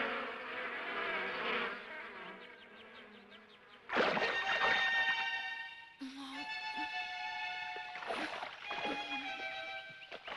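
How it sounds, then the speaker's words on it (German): Bees swarm and buzz close by in an animated scene, their buzzing tones sounding over a busy background of other noise, loud and sustained for the whole stretch. "Haut doch ab, ihr blöden Bienen!"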